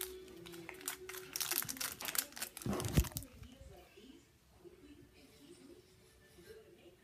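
A chocolate wrapper is unwrapped by hand, loud crinkling and tearing in the first three seconds, ending in a sharp crunch, then fading to quiet rustles; a voice murmurs faintly in the background.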